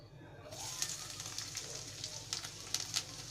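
Garlic cloves sizzle in hot oil in a home kitchen pan while aloo methi is cooked, a steady close frying hiss broken by sharp pops and crackles, with no talk over it.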